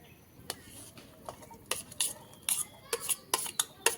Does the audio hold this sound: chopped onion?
yes